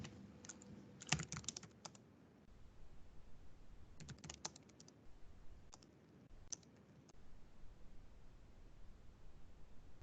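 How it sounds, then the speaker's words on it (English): Someone types an email address on a computer keyboard, quiet irregular bursts of key clicks with short pauses between them, close and faint against a soft background hiss, with no voices. "if I take this, I can type in somebody's email address"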